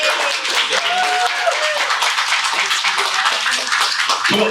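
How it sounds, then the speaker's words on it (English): Crowd applause at a salon event held in a Bloomingdale's store, loud, close clapping mixed with cheering and excited voices calling out throughout. "can we give a round of applause to Tawdry for putting this together?"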